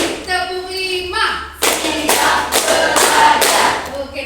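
A room of participants claps in unison for an ice-breaking game, five quick, close, forceful claps in a steady rhythm, following a spoken cue.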